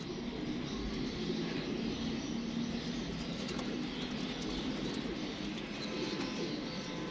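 Soft pigeon cooing rises from a steady, dense bed of ambient noise, the low calls blending into a constant murmur throughout.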